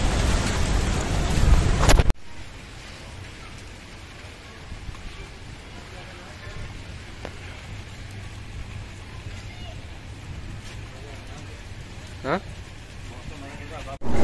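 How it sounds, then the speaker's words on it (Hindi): Heavy rain driven by gusty wind pours steadily outdoors, forming a dense, constant wash of noise. A louder roaring burst comes at the start, and a few faint voices sound beneath the rain. "हवा के साथ बारिश आ रही है"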